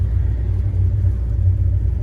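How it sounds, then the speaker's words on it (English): A 1965 Plymouth Satellite cruising on a country road with a freshly broken-in clutch, its engine a deep, steady low rumble heard from inside the car, loud and constant with no speech. "So we took her on the road, up the road, through the country, breaking in the clutch a little."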